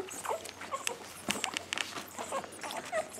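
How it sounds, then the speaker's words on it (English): Six puppies whimper and squeak close up while feeding from a DIY bottle feeder, with high thin cries, brief yips and small sucking and pattering noises scattered through the quiet. "there's our 6 puppies going to town on our newest DIY solution"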